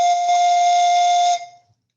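A single steady, breathy whistle-like note is blown on a homemade pan flute made of straws. It holds for over a second, close and clear, then cuts off.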